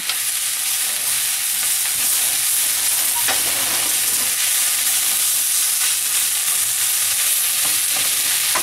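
Spices and bay leaves roasting in a pot for French onion soup, heard as a loud, continuous close sizzle and hiss with occasional faint stirring scrapes, no talking.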